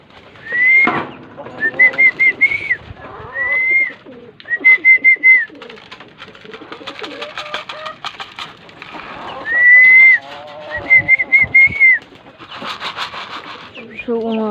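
Pigeons coo repeatedly in soft rolling phrases during feeding, with bursts of wing flapping as a breeder hen escapes, and some speech mixed in.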